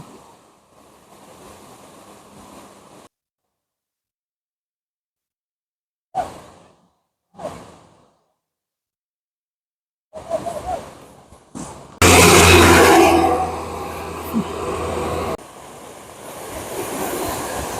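Loud rushing floodwater roars in bursts separated by silent gaps, broad and steady at the end with no talking.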